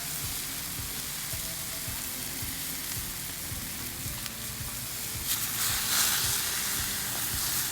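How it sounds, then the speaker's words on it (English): Buttered bread sizzles face down on a hot flat-top grill, a steady broad hiss with faint repeated low knocks, swelling brighter and louder for a moment near the end. "Start with putting the bread butter side down on the grill."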